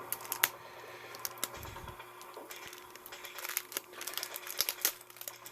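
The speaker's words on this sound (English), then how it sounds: "So we'll go ahead and cut this package open. Get that cellophane off." Cellophane wrapping on a WWII British 24-hour ration pack crinkles and crackles in small irregular bursts as it is cut open and pulled off, fairly faint and close, with no voices.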